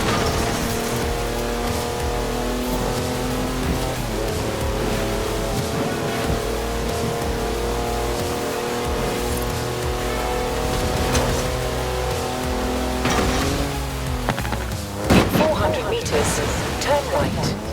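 Four-wheel-drive car on mud tyres with 340 horsepower sliding completely sideways in Forza Horizon 4, a loud steady engine drone with layered harmonics that rises and churns toward the end, with no talk over it.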